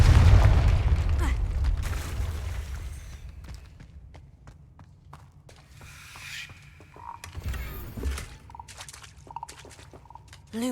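A Confringo blasting spell goes off in Hogwarts Legacy, a loud low boom at the start that rumbles and fades, followed by quieter mechanical creaks, clicks and scattered game sounds.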